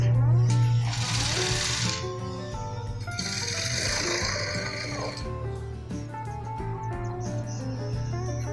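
A sewing machine runs steadily, its loud mechanical whir continuing without pause while running a second line of stitching about a quarter inch along a neck piping.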